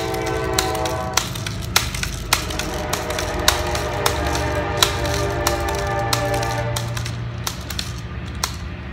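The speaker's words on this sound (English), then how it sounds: "Train." A train rolls past during an outdoor squirrel hunt, a steady rumble with sharp regular clacks of wheels over rail joints and a held horn tone underneath, continuous and fairly close.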